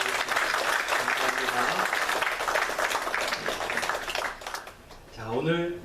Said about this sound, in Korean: 우리 선생님들 격려하는 마음으로 박수 한번 부탁드리겠습니다.